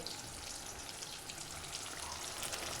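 Food sizzles steadily in a pan during home cooking of a big lunch, a dense, even crackle that continues without pause and with no talk.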